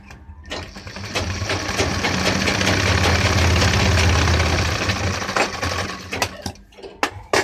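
Sewing machine stitching a pant pocket, a fast steady whirring run that swells and settles over several seconds, then stops with a few clicks of the mechanism, close and alone.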